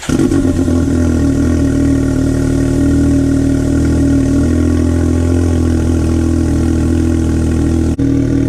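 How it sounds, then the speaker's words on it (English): A Can-Am Maverick turbo side-by-side fitted with a new muffler exhaust runs cold just after starting, a loud, steady, deep engine drone that holds nearly constant throughout at close range. "So there's the exhaust. It's a little cold starting it up,"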